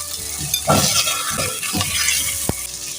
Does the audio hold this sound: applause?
no